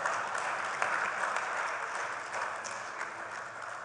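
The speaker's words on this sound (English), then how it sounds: "You can clap for that" Audience at a stakeholders workshop clapping steadily for about four seconds, a dense, even patter of many hands at moderate distance that eases slightly toward the end, with no voices over it.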